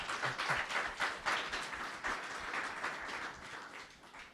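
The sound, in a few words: audience clapping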